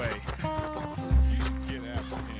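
A horse in the video game Red Dead Redemption 2 runs with steady hoof clip-clops under background music and a voice talking, with a heavy low thump partway through.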